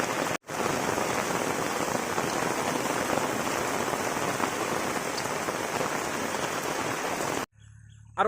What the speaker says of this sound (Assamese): বৰষুণ পৰি আছে।